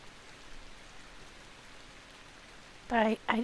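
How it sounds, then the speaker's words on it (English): Rain falling in the video game The Last Caretaker, a faint steady hiss of drops running under a quiet cave ambience, followed near the end by a couple of short louder bursts. "Well, I hear rain."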